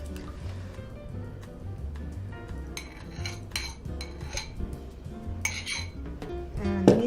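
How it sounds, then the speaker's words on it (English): Egg and milk mixture is poured into a soda bread mix in a bowl, with clinking utensils, knocks against the dish and liquid splashes, close and busy, and faint voices in the background. "Okay, so I'm going to add the egg and milk mixture to this."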